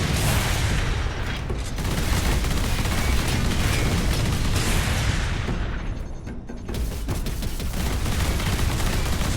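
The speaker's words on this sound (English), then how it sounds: "These turrets are killer." Sustained, dense automatic turret gunfire in the Space Marine video game, a loud continuous barrage with rapid bursts and booms that barely dip, briefly thinning for a moment before resuming at full intensity.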